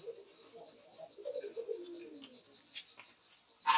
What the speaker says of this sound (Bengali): লুটন কবুতর, ইন্ডিয়ান লুটন